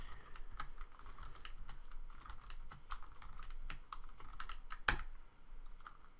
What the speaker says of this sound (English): hit Control-R on your keyboard